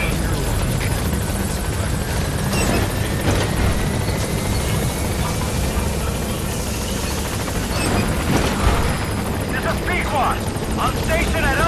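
Helicopter from Metal Gear Solid V: The Phantom Pain arriving at a landing zone, a steady rotor drone holding loud and close through the whole stretch, with a rising whine and game radio voices talking over it.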